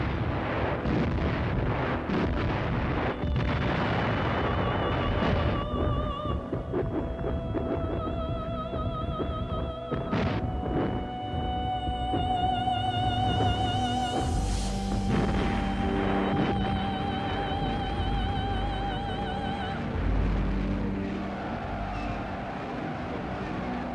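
Artillery bombardment from every available gun, mortar and rocket launcher opens an April assault at Perekop in the Crimea. A dense, continuous roar of heavy blasts and rumbling fire rolls on loudly for the whole stretch, with tonal layers mixed underneath.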